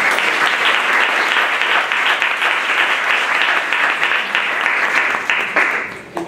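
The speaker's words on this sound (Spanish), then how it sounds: "un aplauso a todos" A conference audience applauds warmly for a panel of speakers, a close, full roar of many hands clapping evenly before tapering off at the end.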